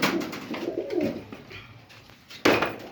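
Pet pigeons coo close by at a Punjabi pigeon sale, soft throaty murmuring calls in quick bursts, with a sudden louder rustle near the end.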